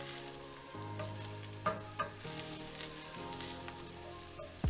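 Spinach sizzling in a tablespoon of olive oil in a pan over medium-high heat, a steady close fry with occasional crackles and pops and a faint low hum beneath, no talking.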